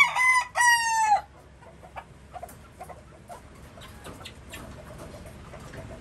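A rooster crows loudly at the start, then quieter scattered clucks and small farmyard noises follow from chickens nearby in a large chicken house.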